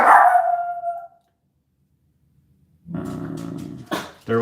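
A dog barks and growls indoors, one sharp bark at the start, a pause, then a low rumbling growl ending in another short bark, loud and close.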